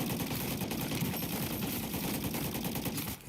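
Sustained rapid automatic gunfire aimed at the orb in Call of Duty MW3 Zombies, a loud, dense stream of shots that barely pauses for about three seconds before cutting off, with no talking.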